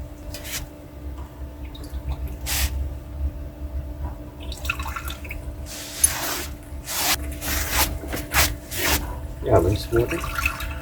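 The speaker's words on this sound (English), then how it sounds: "wash out and fill up Rowley's water" Water pours and drips into a pet's drinking cup stabilized in a duct tape roll, with short splashing bursts and intermittent trickles close by, over a faint steady background hum.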